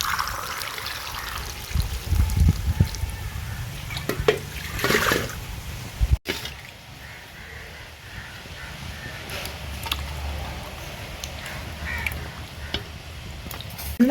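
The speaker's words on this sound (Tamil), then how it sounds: "லெமன் வந்து ஊறாக்கி கழுவுறேன்." Lemons being soaked and washed in water in a village kitchen, with steady splashing and trickling, and crows cawing in the background.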